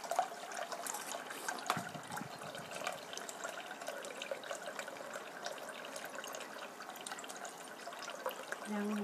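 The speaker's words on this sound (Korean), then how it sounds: "물은 콜드워터 찬물이에요. 콜드워터 찬물." Cold tap water runs while spaghetti is being prepared, a soft, continuous splashing and trickling stream at close range, faint and steady throughout.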